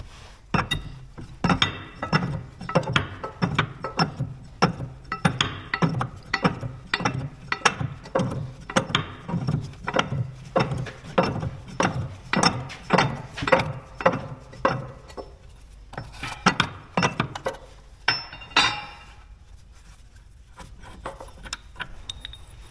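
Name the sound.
wrench loosening a nut on bulldozer track frame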